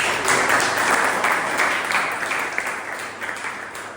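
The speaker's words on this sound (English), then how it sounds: "So huge round of applause." Applause from a Toastmasters club meeting audience, a steady wash of many hands clapping that fades slightly toward the end.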